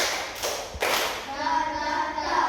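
Fourth-grade pupils clap a classroom rhythm pattern: a couple of sharp, bright group claps in quick succession, followed by children's chatter and voices.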